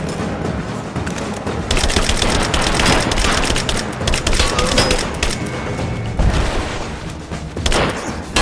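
Sustained bursts of automatic gunfire in the video game Rise of the Tomb Raider, loud and dense, with rapid overlapping shots and booming impacts continuing without pause.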